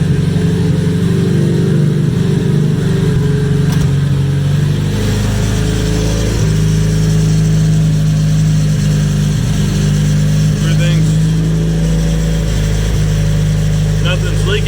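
Rebuilt Nissan KA24DET engine running just after start-up, a steady low idle drone with a slight rise in pitch partway through, loud and close, with people talking over it.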